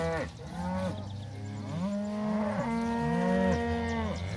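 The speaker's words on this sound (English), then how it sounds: "you cows can complain all you want" Several cattle in a mob grazing a cocklebur field, lowing in long, overlapping moos, close and steady throughout, with no speech.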